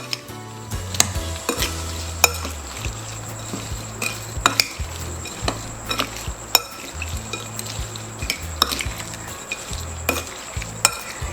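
Shrimp marinade with pepper for whiskey-drunk shrimp being mixed by hand, with a spoon clinking and scraping against the bowl in a quick, steady rhythm close by.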